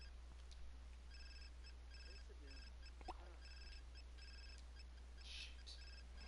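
A phone in The Sims 4 rings with repeated electronic trills in a steady pattern, faint behind low game background sound.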